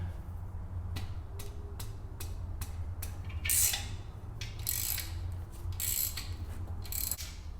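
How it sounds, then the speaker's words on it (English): A ratchet wrench working loose the exhaust manifold bolts on a 1990 Toyota Land Cruiser with an LS engine, a series of rapid clicking pawl strokes in bursts, close up over a low steady hum. "it's time to see if we can break these manifold bolts loose"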